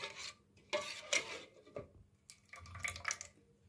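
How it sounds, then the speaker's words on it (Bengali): Patishapta pithe batter being stirred in a bowl, with scraping clinks of a spoon against the vessel and wet swishing strokes in a few quiet, uneven bursts. "এরকম গোলাটা গুলতে হবে।"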